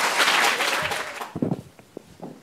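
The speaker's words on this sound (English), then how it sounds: "Please give her a warm applause." Audience applause welcoming a speaker at a talk on Black life in the Netherlands, a brief burst of clapping that quickly thins to a few scattered claps and fades out.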